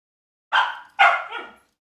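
A puppy being brought home by two brothers gives two quick, close yipping barks about half a second apart, the second trailing into a softer whimpering tail, with silence around them.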